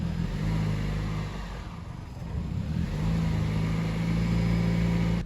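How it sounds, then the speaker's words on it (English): A Toyota Prius held at full throttle on flat tires gives a steady, loud engine drone with a sustained low hum and a slight dip partway through, with no speech. "That is full throttle, and it cannot rotate these tires."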